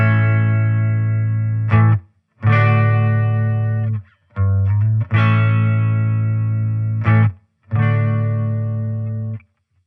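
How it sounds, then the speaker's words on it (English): Fender Champion 40 guitar amp with its fast chorus effect engaged, loud distorted guitar chords ringing out in separate bursts with short gaps between them, alone with no talking. "The first chorus with the red light indicator, this is the fast chorus"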